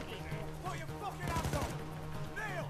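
Gunfire in the heist shooter PAYDAY 2, a burst of several rapid shots heard at some distance from upstairs, mixed with game sounds and background chatter.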